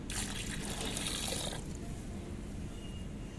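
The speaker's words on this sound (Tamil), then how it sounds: "இப்போ இதோட இங்கே அரிசி கழுவுன தண்ணி எடுத்து வச்சுருக்கேன் அதை இது கூட மிக்ஸ் பண்ணிக்கலாம்" Rice-washing water poured into a ground mixture for a homemade rose-plant fertilizer, a close, rushing pour that tapers after a second and a half into a quieter trickle and settling liquid.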